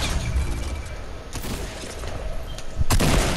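Gunfire in a multiplayer shooter video game, with dense rapid bursts of shots and sharp loud volleys near the middle and end over steady game noise.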